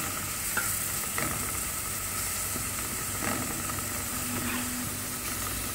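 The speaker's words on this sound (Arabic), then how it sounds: "نخلطهم هكذا نخلو البصل غير شويه يتقلى لنا معه مع التوابل" Onion sizzles with spices in a pan, a steady, close frying hiss running evenly throughout with occasional soft stirring scrapes and no voices.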